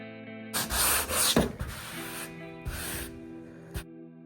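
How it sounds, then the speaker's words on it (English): A car bonnet being hand sanded through grits up to 400: a few short, close rasping strokes in quick bursts over a faint steady hum, without speech. "I've done all the sanding."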